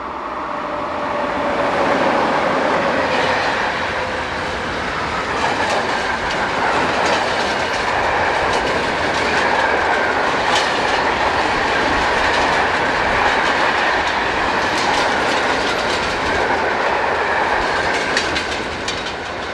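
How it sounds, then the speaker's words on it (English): A long northbound freight tank train rolls past close by on a main line in Germany, a loud steady roar of wheels with clickety-clack rhythm and faint squeals throughout. "seen here on this northbound tank train"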